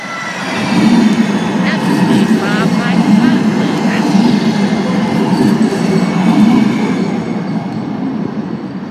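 A red line light rail train rolls past a busy intersection, a steady low rumble of wheels and cars sustained throughout with occasional higher metallic squeals, a voice speaking over it.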